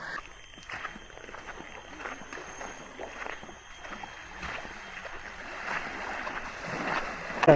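A boat ride to Kapas Island in Malaysia carries a fairly quiet, steady rush of engine and water with small irregular knocks, and no voices.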